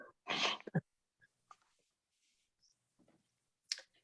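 A single sharp sneeze near the start, followed by quiet clicks and faint rustling.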